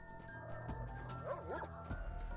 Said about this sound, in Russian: А, собака, блин.